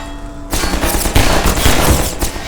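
Rapid automatic gunfire from a turret in the game Half-Life 2, a dense continuous burst of close, loud shots lasting about two seconds after a brief quiet lead-in.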